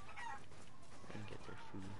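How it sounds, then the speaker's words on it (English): Chickens clucking in the video game Resident Evil Village, a few short rhythmic clucks close by over a quiet background, with no talking. "Oh, chickens."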